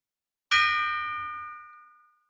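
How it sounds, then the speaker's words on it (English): A gong sound effect rings out once: a bright metallic strike that starts sharply, then hums and slowly fades over about two seconds, alone and without any voices. "So the gong has rung and the decision has been made"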